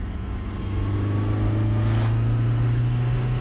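A small-engined Fiat X1/9 accelerates in third gear, a steady, close engine drone holding a rising tone that swells slightly as it pulls.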